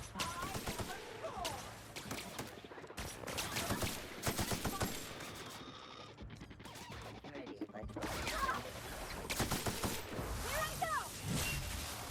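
Gunfire in The Outer Worlds: repeated bursts of shots and impacts crackle through a busy battle mix, with a player's voice talking over the action.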